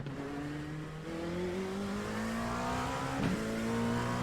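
An LMP2 prototype race car engine in the iRacing simulator, droning loudly and rising steadily in pitch as the car accelerates through the gears, with a brief shift blip near the end.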